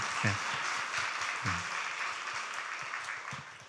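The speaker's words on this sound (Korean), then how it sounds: "박수 한번 쳐주세요." Seminar audience claps together in a large hall on a request from the front, a moderate, reverberant wash of applause with a few brief vocal sounds breaking through near the start.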